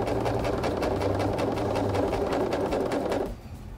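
A sewing machine stitches steadily at close range, its needle hammering in a fast even rhythm with a motor hum beneath, before stopping abruptly just before the end.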